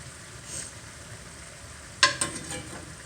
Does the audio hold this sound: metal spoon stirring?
yes